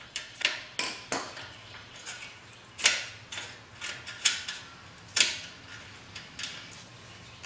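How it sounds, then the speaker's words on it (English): A 12mm wrench works the rear-wheel axle nut off a chain-drive Honda Shadow VT750 ACE motorcycle: a close series of sharp metallic clicks and ratcheting ticks at an uneven pace, quiet and without speech. "Take your 12mm wrench. Take the nut off."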